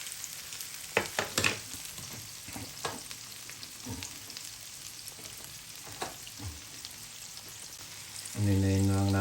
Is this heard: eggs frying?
yes